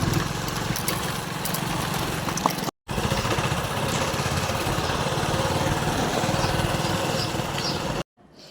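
A steady, noisy Mahindra tractor engine runs close by at idle, broken by two short gaps of silence.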